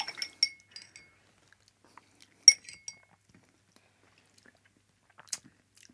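A spoon stirs an espresso martini cocktail, giving sparse light clinks of metal against glass and ice, quiet taps scattered over near silence.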